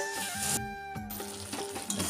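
Food sizzles and crackles in a hot pan, with a few stirring clinks and a brief muffled pause partway through.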